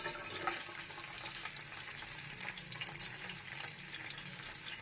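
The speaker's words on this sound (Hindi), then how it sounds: "तेल हमारा गर्म हो गया। अब हम इसमें 400 ग्राम प्याज है, ये मैंने काट के रखे हैं, ये डालेंगे।" About 400 grams of sliced onions fry in hot oil in a pot for beef nihari, a soft, steady hiss and crackle heard faintly and continuously, with no voices.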